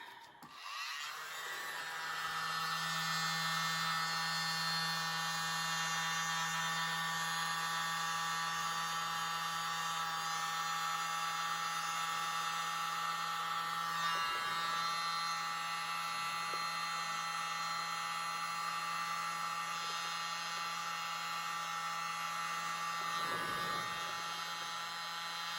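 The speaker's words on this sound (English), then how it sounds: "I'll try my blower." A blower runs over an acrylic paint pour in a Modified Bloom swirl technique, a steady high whirring airflow that starts after a second and holds continuously, loud and close, with slight dips in intensity.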